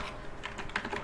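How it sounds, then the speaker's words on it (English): Someone types a command on a computer keyboard while setting up a Raspberry Pi, producing a quick run of close, light key clicks with one slightly louder tap near the end. "we're going to type in sudo"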